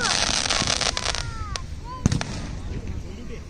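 Firecrackers burst outdoors during an Eid moon-sighting gathering in Lakshadweep, giving a string of sharp crackling pops with whistling streaks and one louder bang, while people talk and shout nearby.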